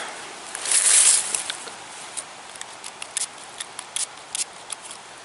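A burst of fine hissing water from a spray bottle, followed by a series of quick, sharp spritzes and small clicks at irregular intervals, close by.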